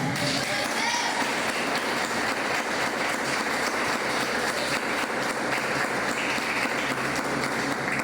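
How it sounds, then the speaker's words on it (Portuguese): A church congregation applauds at a worship service, a dense, continuous wash of many hands clapping that holds at an even level from start to finish, with voices mixed into the noise. "Aplauda Jesus"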